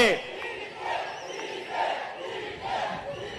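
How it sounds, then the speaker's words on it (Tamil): A large political rally crowd in Karur chants "TVK" in rhythmic unison, the same short shout repeated in waves about every second, distant and echoing. "இது வெறும் சத்தம் அல்ல, போர் முழக்கம்."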